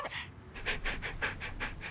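A dog pants close by in quick, even breaths, around eight rhythmic puffs with no talking over them.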